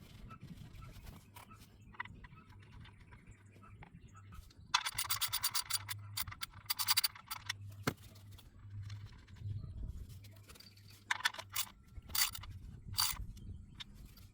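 A drain bolt is screwed into the oil pan of a 2019 Toyota C-HR and tightened, heard as close bursts of rapid ratcheting clicks with quieter scraping and handling noises between them over a low steady hum.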